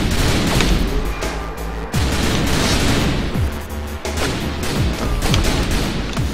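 Rapid gunshots from the zombie shooting game Typing of the Dead: Overkill crack in dense, overlapping bursts over a constant loud background din, with no voices.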